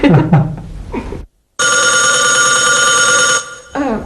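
After brief speech and a moment of silence, an old telephone bell rings loudly in one long continuous trill, followed by a voice answering a call from London.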